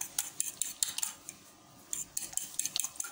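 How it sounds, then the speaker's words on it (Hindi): Eggs being beaten for chicken donuts, a utensil clicking rapidly against a bowl in quick irregular bursts, close and fairly quiet, with a brief pause midway. "अब अंडों को फेंट लेते हैं।"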